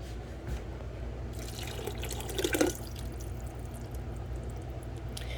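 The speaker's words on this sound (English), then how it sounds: "let's go dump it into the pot" Liquid pours into a cooking pot in a quiet splash that swells briefly and then settles into a low trickle.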